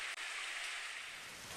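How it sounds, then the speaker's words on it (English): Heavy rain in a downpour from the Steins;Gate visual novel video game, a steady, even hiss of falling water at a moderate, constant level with no talk. "In less than a minute, the rain turns into a full downpour."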